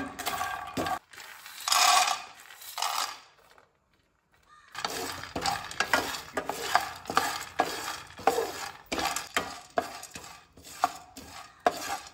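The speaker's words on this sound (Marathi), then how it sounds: "मखाना जे आसा पळय ते आमकां एक 2 ते 4 मिनटांनी हितून मातशें परतून घेवपाक जाय." Makhana (fox nuts) being stirred and dry-roasted in a pan: repeated close rattling, scraping strokes of a spoon in an uneven rhythm, pausing briefly before resuming, loud and alone.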